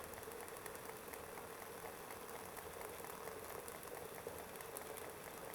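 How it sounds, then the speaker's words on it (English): Water at a full rolling boil on a homemade alcohol stove, a faint, steady bubbling hiss that holds evenly throughout with no talking. "We've got a full boil going on. It's just roiling away."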